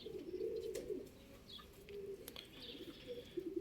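Soft coos from a flock of pigeons drift through a quiet early-morning rooftop scene, with occasional light chirps and wing flutters nearby.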